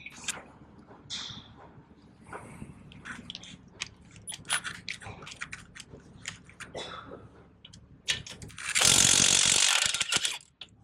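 A ratchet with a 17mm socket and swivel clicks in quick, uneven bursts while removing brake bracket bolts on a 2013 Toyota Prius, ending in a short loud hiss of noise.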